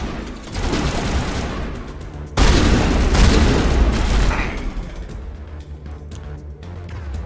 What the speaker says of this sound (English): Switch to our shotgun.